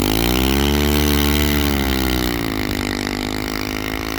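Kawasaki KLX110 minibike fitted with a Timbersled Ripper snow kit, its small engine droning steadily at light throttle, pitch sagging slightly then holding low and even as it plows through snow, loud and close with no talking.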